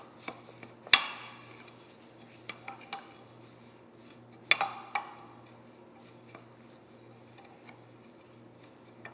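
A spoon mixes corn flour flakes with coconut milk in a bowl, giving two sharp scrapes and clinks against the bowl followed by softer, scattered taps and stirring sounds.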